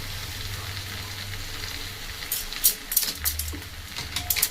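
Rice with a packet of biryani masala frying in a pan: a steady hiss of sizzling, with scraping and clinking of a spoon stirring the rice.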